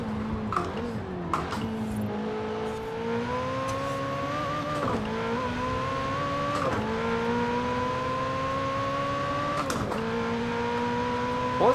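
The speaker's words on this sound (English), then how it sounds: "it is really hard to tell when you're getting near a red line in this car and when you need to shift just by the sound of it." A Ferrari 488 Pista engine in the Forza Horizon 4 racing game revs loudly and climbs through repeated rising sweeps, each cut by a quick gear shift, with occasional tire squeal over a steady engine drone.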